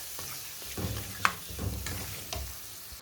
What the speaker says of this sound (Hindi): तो ये मसाला भूनूँ